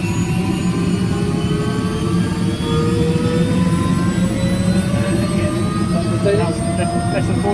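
A Bell 206 JetRanger helicopter's turbine engine spooling up during start, a loud steady roar with rising whining tones, while someone talks over it.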